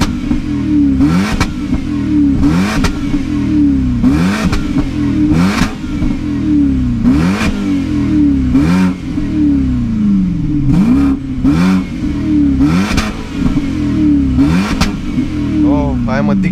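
A BMW 745i E65 V8 with the rear muffler deleted and a cut-off valve, its loud exhaust blipped in repeated sharp revs rising and falling over a deep rumbling idle, close up.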